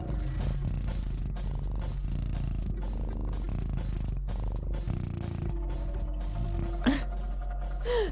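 A person imitates a cat purring with a steady, rough, rattling drone that runs throughout over a busy background during a Roblox game stream.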